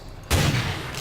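A loud gunshot in the TFN video game, a sudden close blast followed by a sustained rumbling, noisy tail that lingers to the end.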